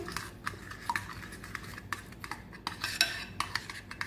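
A spoon stirs and scrapes around a bowl of yogurt marinade with spices and garlic-ginger paste in quick, repeated strokes, with light clinks of metal against the rim, soft and close.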